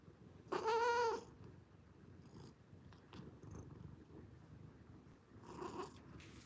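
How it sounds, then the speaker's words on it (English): An old stray cat lets out a clear, drawn-out meow close by, then stays quiet through faint room noise before a second, softer meow near the end. "Say hello, kitty cat."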